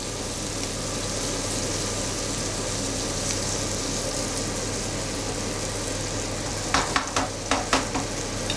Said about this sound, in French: Voilà, à mi-cuisson, on va les remuer. Voilà, on les fait revenir.